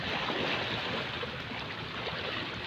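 Rough waves churn on Manila Bay during Typhoon Goring, a steady broadband wash of choppy water, fairly faint and continuous, with no voices over it.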